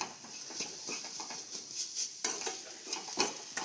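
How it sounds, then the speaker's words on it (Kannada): Spiced cauliflower for gobi paratha stirred and roasted in a pan with chilli powder and salt: a soft sizzle under repeated scraping and clinking of a utensil against the metal, close and steady. "ನೋಡಿ ಹೀಗೆ ಚೆನ್ನಾಗಿ ಹುರ್ಕೋತಾ ಹೋಗಬೇಕು"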